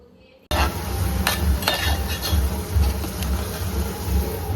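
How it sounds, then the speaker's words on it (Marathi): Chopped onion hits hot oil in a pan and settles into a steady close sizzle, with a few light metallic clinks of a spoon stirring against the pan. "आता मी कांदा तेलावर मारला आहे"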